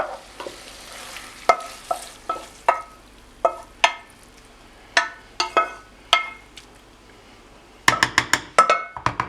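Chicken noodles with vegetables and sauce being tossed in a pan, a series of sharp utensil knocks and scrapes against the metal in an uneven rhythm, bunching into a rapid burst near the end over a quiet sizzle.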